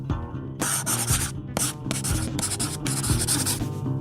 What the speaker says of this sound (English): It was the sound of a non-disclosure agreement.